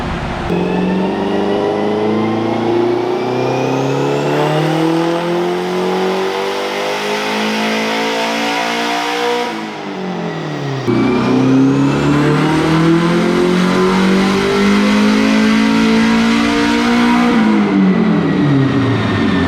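A turbocharged Honda S2000 engine pulling hard on a dyno, its loud, close note climbing steadily in pitch through one long rev, dropping briefly, then sweeping up again in a second sustained pull.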